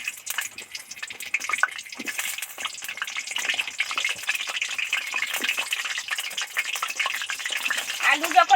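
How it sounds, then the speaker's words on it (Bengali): Potatoes hiss and sizzle in hot white oil in a wok, a steady broadband crackle that runs close and fairly loud the whole time, with brief clatters and a faint voice near the end. "তেল গরম হয়ে গেছে একটা আটা উঠছে এবার এর মধ্যে আলু কটা দিয়ে দেবো"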